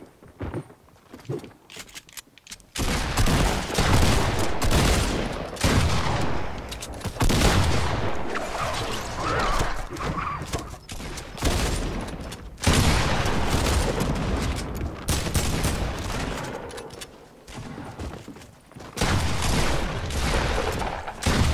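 Rapid bursts of gunfire in a Fortnite match, loud and nearly continuous for about twenty seconds, with a quieter opening moment before the shooting starts.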